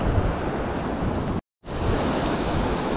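Sea swell rolls against the shore while wind buffets the microphone, a loud, steady wash of surf with one brief dropout.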